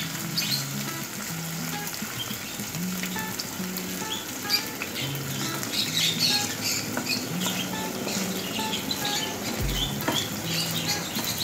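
Chicken and vegetables frying in a pan, a dense continuous sizzle and crackle with pattering spits and stirring scrapes, close and steady with no talk.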